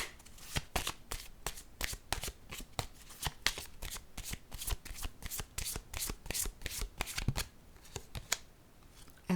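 Tarot cards being shuffled and handled in a steady run of crisp, rapid riffling slaps and flicks, close and clear, with no voices over them.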